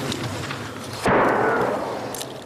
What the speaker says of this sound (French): Cette fois-ci, ce sont des obus qui tombent dans le sable.